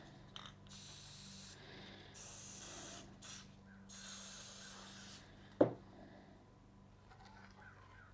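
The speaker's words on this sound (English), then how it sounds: "I'm going to spray it on my paint stick." Spray paint in French lilac hisses from an aerosol can onto a paint stick during a bathroom sink and backsplash makeover; two or three quiet bursts of spray sit over a low hum, and one sharp knock follows.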